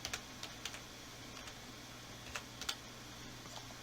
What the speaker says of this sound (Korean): 그리고 다시 한번 제슨이라고 입력해 줄게요.